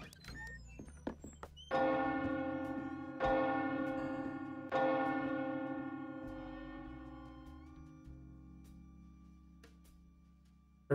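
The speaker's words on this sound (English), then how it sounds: "Every time we hear that bell, she's a goner." A church bell in The Sexy Brutale game tolls three times a couple of seconds apart, each strike ringing out loud and clear and slowly fading, after a few soft clicks.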